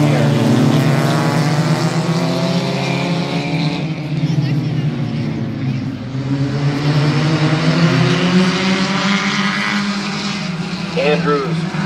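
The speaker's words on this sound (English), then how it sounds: "eight-lap heat race number two for the trophy stock. Getting ready to go green flag in here." Trophy stock race cars roar around Midvale Speedway during an eight-lap heat, a loud continuous engine drone with cars passing and fading, under an announcer's steady commentary.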